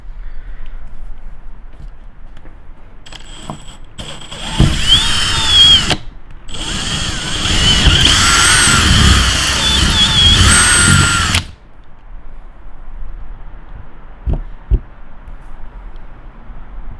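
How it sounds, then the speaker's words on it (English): A power drill with a larger bit enlarges bolt holes in a carbon fiber wing for a BMW M3 G80 or M4 G82, whining loudly in two close bursts separated by a brief pause, with quiet handling noise before and after. "I just went ahead and switched over to a bigger drill bit tip, so that I can go ahead and just make our initial holes a little bit bigger"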